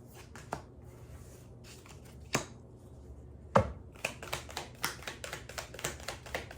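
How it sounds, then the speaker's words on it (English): Tarot cards being shuffled during a reading, a sparse few soft slaps followed by a quick run of light riffling taps, close and quiet with no talking. "I didn't really fully shuffle them."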